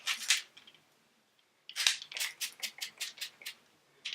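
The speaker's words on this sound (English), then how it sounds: "I'm going to set everything with my usual setting spray." A makeup setting spray bottle spritzes in short hissing bursts: two quick sprays, a pause, then a rapid run of about eight close, crisp pumps.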